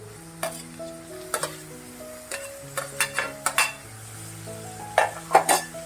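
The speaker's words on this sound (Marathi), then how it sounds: "आता आपण टोमॅटो घालून घेऊया." Chopped tomatoes going into a pan of sprouted green moong sabzi, with a spoon scraping and stirring against the metal through a soft sizzle, several clinking strokes in an uneven rhythm, close by, with no voices.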